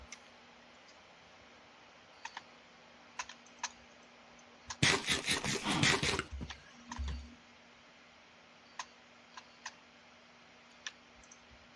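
Computer keyboard clicking during play of the SevTech Ages video game: scattered isolated key taps, then a dense burst of rapid typing for about a second and a half, then sparse taps again in a quiet room.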